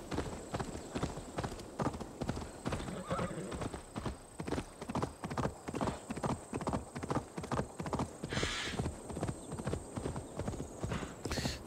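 Rapid, rhythmic hoofbeats of a horse galloping hard in Assassin's Creed Valhalla, loud and steady throughout, with a brief whinny near the end.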